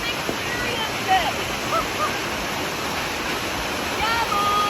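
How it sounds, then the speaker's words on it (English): Dunn's River Falls in Ocho Rios, Jamaica, roars as a broad, continuous wash of falling water, loud and close, with faint voices and shouts mixed in. "Dunn River Falls is by far the best attraction in Ocho Rios, Jamaica."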